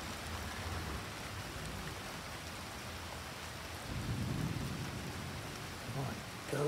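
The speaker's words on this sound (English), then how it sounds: "It's raining." Steady rain pours during a nighttime storm with a raccoon nearby, with a low thunder rumble swelling midway and again at the end, continuous and fairly close.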